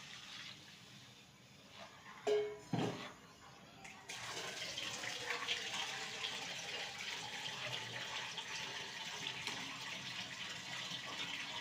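Buttermilk mixed with gram flour is poured into a pan for okra kadhi, a couple of brief splashes followed by a steady, soft liquid rush, quiet and close.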